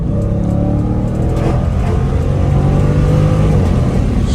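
Dodge Charger Scat Pack widebody V8 engine revving hard on a dry pull, a loud sustained roar whose pitch climbs and shifts under throttle, heard from inside the car with no talk.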